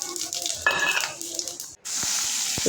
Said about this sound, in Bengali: ছোটো আলুগুলো দিয়েছি আর কি ভেজে তুলে রাখছি